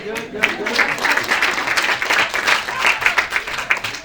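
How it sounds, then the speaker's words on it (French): Applause from an audience at a French-language talk on learning, a lively patter of many hands clapping with distinct individual claps standing out, close and continuous with a little speech mixed in. "bonne main d'applaudissement"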